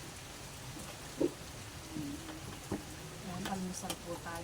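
Heavy rain falls as a steady, soft hiss beneath a person speaking briefly, with a few light clinks nearby.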